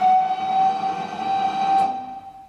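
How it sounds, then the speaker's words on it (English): A preserved tramway steam whistle sounds when its chain is pulled, giving one loud, sustained tonal blast close by that holds for about two seconds before trailing off. "I feel like they've rigged this up so you can pull the whistle, no?"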